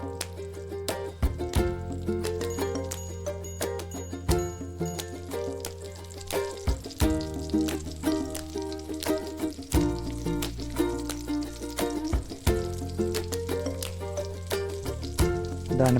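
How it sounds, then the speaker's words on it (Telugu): Chopped tomatoes and five or six green chillies cooking in oil on a stove over a medium flame for a tomato chutney, with a steady soft sizzle and crackle beneath louder, tonal background music. "కొంచెం ఆయిల్ వేసుకొని కట్ చేసి ఉంచుకున్న టమాటో అండ్ 5-6 పచ్చిమిరపకాయలని యాడ్ చేయండి."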